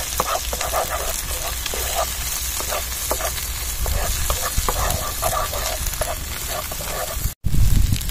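Broccoli, petai and egg stir-fry in a hot pan with a steady loud sizzle, while a utensil scrapes and stirs in repeated strokes, close up and continuous.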